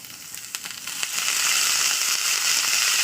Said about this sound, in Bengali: পেঁয়াজ কড়াইটা দিয়ে দিচ্ছি,